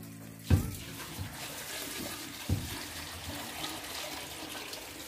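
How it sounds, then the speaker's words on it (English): Water is poured off into a kitchen sink while making a sorrel and beetroot drink, a quiet splashing trickle with a couple of soft thuds from the container. "I'm gonna pour this off on the other side of the sink."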